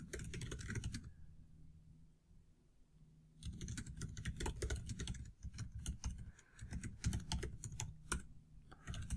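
Rapid clicking keystrokes on a computer keyboard, close and fairly quiet, arriving in a brief burst, pausing for about two seconds, then resuming in a steady, dense run of taps.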